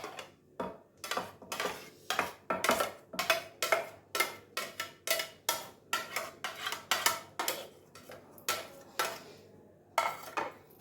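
Onions, ginger and garlic go into a cooking pot for a meat dish, with a steady, rhythmic metallic clatter of a utensil against the pot repeating roughly twice a second, close and fairly quiet.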